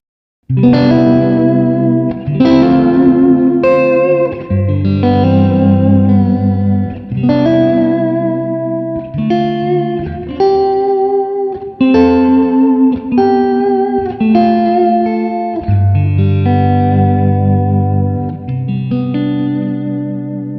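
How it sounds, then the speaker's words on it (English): Strummed electric guitar chords, each one ringing out with a slow, shimmering whammy bar vibrato wobble in the pitch, processed with chorus and light distortion; no talking. "We're going to be doing vibrato, which sounds awesome when you do it with your whammy bar."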